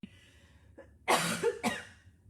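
Two short, sharp coughs close by after a quiet breath, the second a little weaker than the first.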